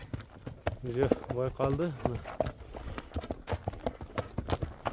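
A horse walking on a path while being led back and forth, hoof clip-clops stepping in a steady uneven rhythm, close, under a voice speaking.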